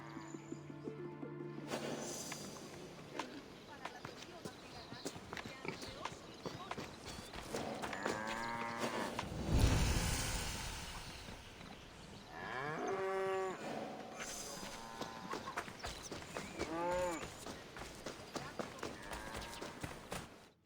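Oxen lowing in Assassin's Creed Odyssey at an ancient Greek farm and threshing floor, with a few drawn-out moos rising over busy rural ambience and clattering hooves, mid-distance and moderately loud.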